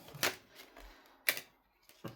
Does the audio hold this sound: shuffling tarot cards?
yes